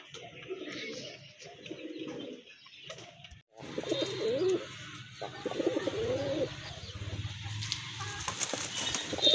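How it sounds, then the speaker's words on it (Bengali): Pigeons coo in soft, repeated throaty bursts, fairly close, from a large breeding pair at a pigeon sale, with faint background noise between the calls. "ডিম বাচ্চা করানো অনেক বড় সাইজের এক জোড়া কবুতর"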